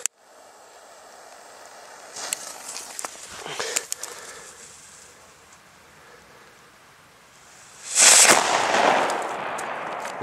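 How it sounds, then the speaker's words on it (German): Chinese firecrackers with green-white-grey fuses go off as a run of sharp crackling pops, followed by a louder burst and hissing crackle that fades out, heard outdoors with no talking. "Aber richtig gute Böller."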